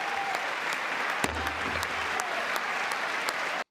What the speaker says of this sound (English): Watch him cheer while somebody gets thrown out